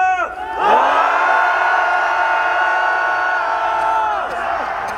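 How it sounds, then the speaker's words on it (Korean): Large protest crowd at a Gwanghwamun rally in Seoul lets out a loud, sustained roar of cheering and shouting that swells quickly and holds steady for several seconds before tapering slightly. "저곳에 있는 시민들이 들을 수 있도록 힘찬 함성 시작!"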